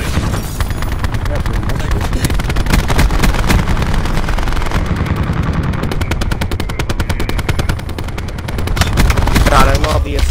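Sustained rapid machine gun fire from a MicroMG in Black Ops 4 rattles loudly and continuously through the whole stretch, dense and close, over other game sounds.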